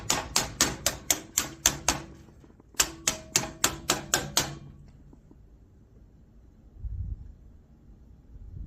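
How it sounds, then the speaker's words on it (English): A rubber hammer taps on HVAC equipment during an install: a quick, even run of about seven sharp taps, a pause, then six more, followed by a dull low thump. The tapping is close and there is no talk. "grab your rubber hammer right here. And all you're going to do is just tap that over"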